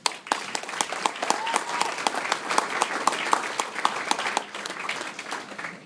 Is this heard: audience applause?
yes